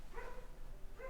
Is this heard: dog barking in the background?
yes